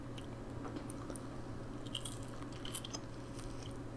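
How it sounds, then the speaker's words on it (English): Close, crisp crunching bites into crunchy honey chipotle chicken crispers, a few quiet separate bite and chew crunches scattered over a low steady background hum. "Look how crunchy that is."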